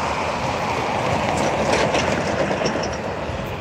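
Old railroad boxcars roll steadily along the tracks toward a scrapping site, a continuous rumbling clatter of wheels on rail with faint high squeals near the end.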